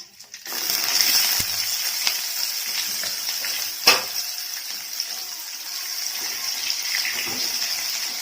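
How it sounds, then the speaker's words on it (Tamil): Shallots sauté with popped mustard seeds and curry leaves for a ripe bitter gourd fry, making a steady, hissing sizzle throughout, with a sharp clink of the pan near the middle. "சின்ன வெங்காயம் நல்லா வதங்கட்டும்"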